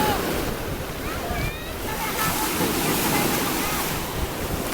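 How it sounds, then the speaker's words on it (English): Ocean surf in Hawaii washes continuously onto the shore, a dense steady roar mixed with wind rushing across the microphone. "Enjoying the sound of the waves."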